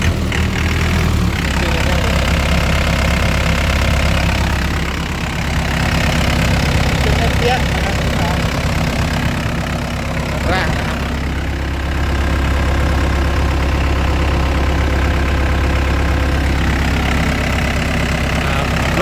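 A Komatsu SK60-C excavator diesel engine idles steadily and close by, a continuous low rumble running the whole time with slight dips, while someone talks over it.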